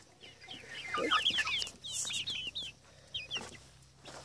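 Backyard chickens and a young rooster cluck in a run of quick, bright chirping calls, fairly close and clear, with a quieter scratchy farmyard background and no talking.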